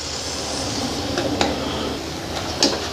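Spicy tofu filling for comro simmers in a pan as its water cooks off, a steady bubbling sizzle with a few faint utensil taps against the pan.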